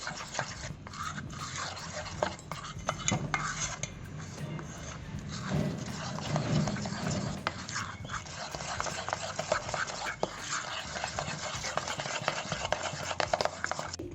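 Flour batter with baking powder for ghee jalebi being stirred in a bowl, a steady scraping swish that carries on throughout, with a few dog whimpers and faint background noise.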